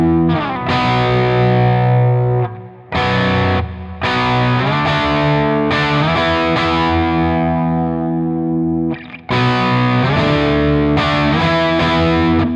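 A heavily distorted electric guitar runs through a Neural DSP amp simulator set for an EL34 tube amp tone, playing loud chord bursts separated by brief gaps of silence.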